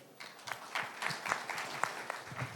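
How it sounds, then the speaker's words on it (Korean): An audience at a dental symposium in Seoul claps steadily, a soft continuous patter of many hands heard from some distance in a large room. "박수로 맞이해 주세요"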